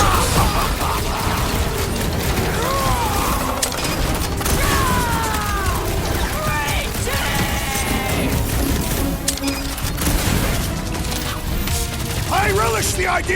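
Chaotic fight in the Guardians of the Galaxy video game with bursts of firework-like crackles, booms and mechanical clatter, dense and loud throughout, with characters shouting over the action.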